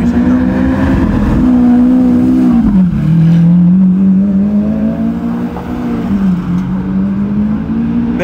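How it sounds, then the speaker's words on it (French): An Audi RS6 with four-wheel drive and a Lamborghini Aventador drive past, a loud continuous engine note rising and falling in pitch as the cars sweep by, with a second swell partway through and faint voices underneath. "Tu vois le RS6 qui vient de passer, c'était 4 roues motrices."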